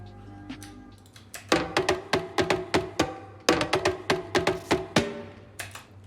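Afro house percussion played solo: a steady groove of sharp drum hits in quick, syncopated patterns over a low sustained hum, loud and close, with no voices.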